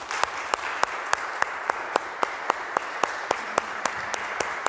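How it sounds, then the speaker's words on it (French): Audience applause in a church during a Palm Sunday Mass, a steady, moderately quiet wash of clapping with sharp regular claps standing out, lasting the whole stretch without talk. "Je voudrais qu'on l'applaudisse parce qu'elle a accepté de venir nous aider dans notre communauté."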